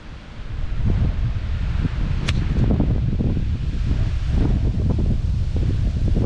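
Strong gusty wind sweeping across the Pine Hills golf course, a loud continuous roar buffeting the microphone with surging rises and leaves rustling, and no one speaking.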